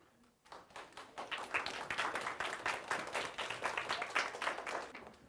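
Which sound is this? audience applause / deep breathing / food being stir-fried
audience applause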